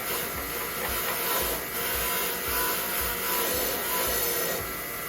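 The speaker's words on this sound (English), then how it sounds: "So you take your rusty axle and just run it on the wire brush." A rusty axle grinds against a wire brush, giving a continuous, loud, scratchy rasp with slight rhythmic pulses as the part is pressed and moved, and no talking.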